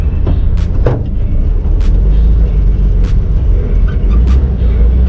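A 1961 Volkswagen with a manual transmission, engine rumbling low and steady while driving, close and continuous with a few faint clicks and no talk.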